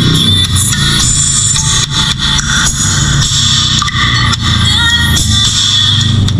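Music played loud through a speaker wired with a passive crossover, bright and crisp in the treble with a steady beat underneath, continuous and close with no talking.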